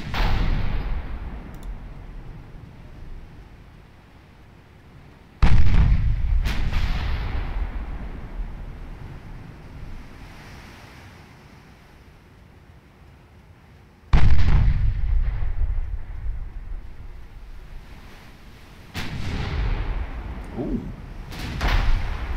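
Heavy naval artillery booms from the Ultimate Admiral Dreadnoughts naval game, with the CSS Virginia in battle, come as two loud deep blasts that slowly fade, followed by a softer rumble, over a steady low background.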